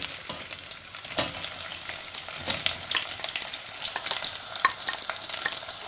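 Onions frying in hot coconut oil for Kerala fish curry, a bright, close crackling sizzle with frequent stirring scrapes, loud and steady with no talk.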